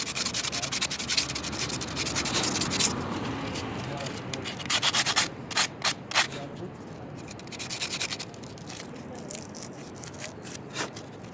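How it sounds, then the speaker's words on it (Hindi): A Suzuki Mehran spark plug is rubbed clean with sandpaper in a run of close, scratchy back-and-forth strokes, some quick and evenly spaced, while someone talks in between. "आप रेगमाल के साथ खुद भी साफ़ कर सकते हैं।"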